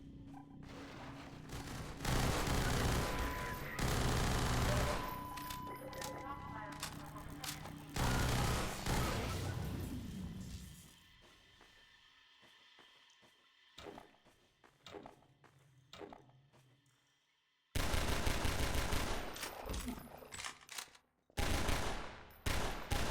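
Rapid gunfire in the video game Half-Life 2 as bullets pound a crate, loud bursts of repeated shots broken by a quieter stretch with softer game noises and then a return to heavy firing.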